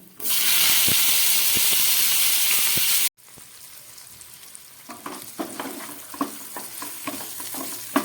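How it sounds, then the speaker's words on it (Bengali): Green tomatoes and five-spice dropped into hot leftover fish-frying oil burst into a loud, steady sizzle for about three seconds, then cut to a quieter crackling fry with scattered clicks of stirring. "এই মাছ ভাজার তেলের মধ্যে কিছুটা পাঁচফোড়ন দিয়ে দিলাম আর দিয়ে দিচ্ছি কেটে রাখা কাঁচা টমেটো"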